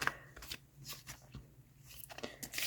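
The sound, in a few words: shuffling large tarot cards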